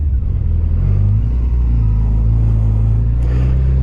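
A Yamaha FJR 1300 motorcycle engine runs steadily, a loud close rumbling idle with a slight rise near the end, no talking over it.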